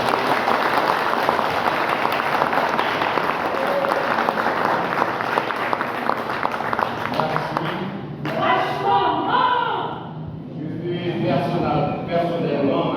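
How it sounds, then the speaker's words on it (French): Applause marks the installation of a new departmental director at an official ceremony. Dense clapping runs loud for about eight seconds, then breaks off as voices and scattered sounds take over. "Sous vos applaudissements."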